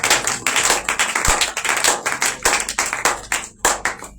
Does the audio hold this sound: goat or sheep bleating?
no